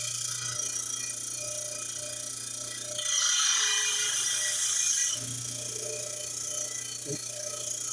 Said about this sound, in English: then you just grind it